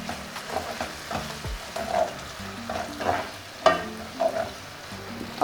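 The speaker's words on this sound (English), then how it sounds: "stir that a bit" Spoon stirring white pepper and curry powder in a frying pan for gizdodo, with scraping strokes over a soft sizzle, including a few sharper clinks against the pan.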